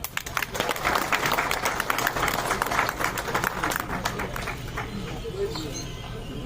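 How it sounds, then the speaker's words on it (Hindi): A burst of crowd applause at a trade fair event in Jammu and Kashmir, many hands clapping together at once, tapering slightly toward the end with some murmuring voices mixed in. "जोरदार तालियां"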